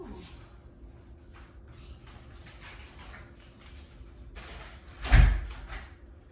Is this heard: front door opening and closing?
yes